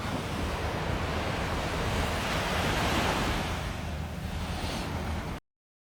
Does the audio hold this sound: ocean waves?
yes